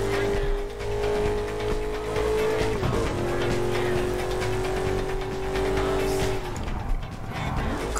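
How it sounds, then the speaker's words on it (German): Game car in Burnout Paradise launched off a ramp at top speed, handbrake pulled into a flat spin: loud, steady engine drone with a long sustained tire skid that bends in pitch, then drops off near the end. "Mit Topspeed auf die Rampe und zieh die Handbremse, um den Wagen beim Abheben in den Flatspin zu drehen."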